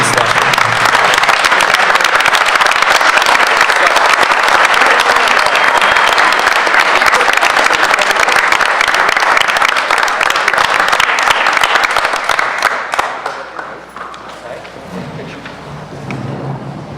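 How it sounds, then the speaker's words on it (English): Sustained, loud applause from a crowd at a school board of education meeting honoring an elementary student of the month, steady for about twelve seconds before tapering off into quieter room noise. "please join me in one more round of applause"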